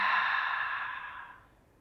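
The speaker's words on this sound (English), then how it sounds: "exhaling out of the mouth" A long, smooth exhale out through the mouth during a beginner vinyasa yoga flow, a soft breathy rush that slowly fades away over about a second and a half, close and alone.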